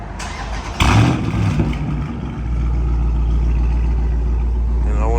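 A Dodge Charger Scat Pack fires up close by with a sharp starter whir and a loud bark, then settles into a deep steady idle rumble; a voice talks briefly just before it starts.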